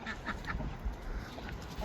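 Ducks on a small backyard farm giving several short quacks in quick succession, close by, over a noisy outdoor background with rustling and handling sounds.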